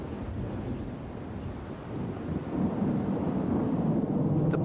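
Rumbling thunder during a storm over meerkat burrows, a low continuous roll that swells in the second half with wind-like hiss, moderately loud and with no voices.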